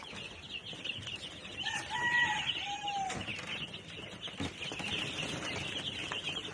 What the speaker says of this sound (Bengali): আজকে আপনাদের সামনে যে বাচ্চাগুলো দেখতেছেন এই বাচ্চাগুলোর বয়স চলতেছে আজকে 10 দিন